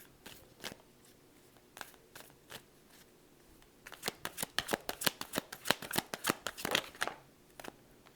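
A deck of oracle cards is shuffled by hand, starting with sparse, separate riffle snaps and building into a dense, quick run of crisp flicks. The sound is close and quiet, with no talking.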